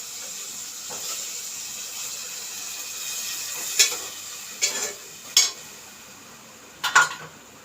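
Boiled black-eyed peas poured into a cooking pot over a soft background hiss, followed by several sharp clinks of metal utensil against the pot, close and without talk.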